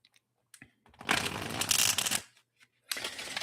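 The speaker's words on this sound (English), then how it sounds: "do some preliminary shuffling" Tarot cards are shuffled by hand in a couple of bursts, a brisk riffling flutter lasting about a second, then a pause with faint taps before another quick riffle begins, close and clear.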